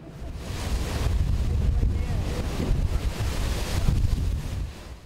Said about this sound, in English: The sea still quite rough, but far calmer than it was Wednesday morning